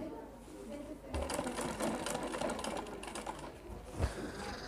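A sewing machine stitches a school skirt in one close, rapid mechanical chatter that starts after a quiet second and runs steadily to the end, with a soft thump near the close.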